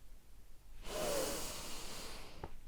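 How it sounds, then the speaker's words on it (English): Heavy breathing up close: a long, loud rush of breath swells in after a quiet start and holds steady, with a brief sharp catch near the end and no talking. "I'm breathing now."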